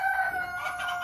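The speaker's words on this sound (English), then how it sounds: "There's my flirty cockerel." A seven-month-old American Bresse cockerel crows in one brief, clear, sustained call, fairly close, with no talking.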